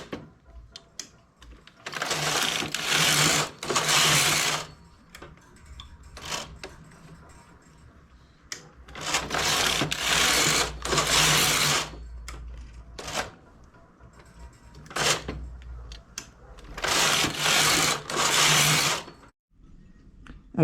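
A domestic knitting machine works in stockinette stitch, its carriage sliding in loud rattling bursts of about two seconds each, several passes in a row separated by quiet pauses with small clicks.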